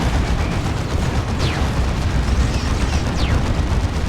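Rocket-run air strike in Dawn of War 2 during an Imperial Guard battle: a continuous loud rumble of overlapping explosions, with two quick whooshing rocket sweeps overhead.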